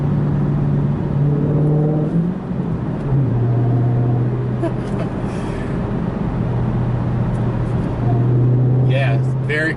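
A 2020 Dodge Challenger Hellcat with a manual gearbox pulling onto a highway, a deep droning engine note rising through gears with brief dips at shifts, heard from inside the cabin with faint speech.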